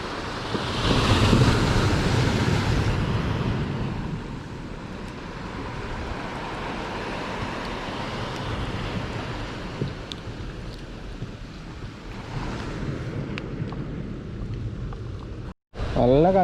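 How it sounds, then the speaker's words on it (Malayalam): Strong wind buffets the microphone beside the water on a rainy-season fishing trip, a constant loud roar with surf-like swells throughout and people talking now and then. "ഭയങ്കര കാറ്റ്."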